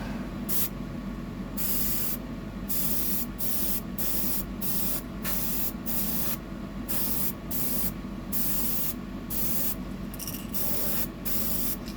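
A fishing lure gets a coat of spray paint in a series of close, steady hissing bursts separated by short pauses, with no talking.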